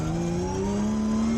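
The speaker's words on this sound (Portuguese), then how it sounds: "O barulho do câmbio." A steady, loud mechanical whine rises slowly in pitch, the forged gearbox whine of a Nissan S15 drift car with a 2JZ engine running close by.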